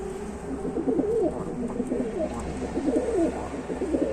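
Homing pigeons squabble over their young, giving a steady run of low, throaty coos that rise and fall close by over a faint background hum, with no talking.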